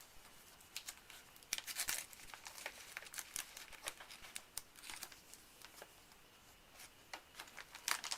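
A strip of paper towel handled beside a vacuum sealer nozzle and bag, giving soft, irregular crinkles and light rustling taps at close range, fairly quiet with no talking.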